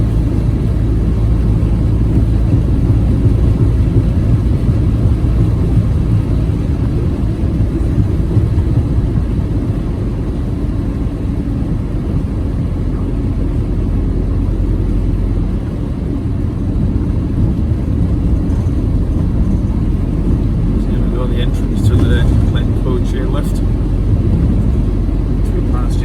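Car interior drone while driving on a salted, snow-covered road near Kinlochleven and Glencoe, a steady low rumble of engine and tyres throughout, with faint higher crackles late on.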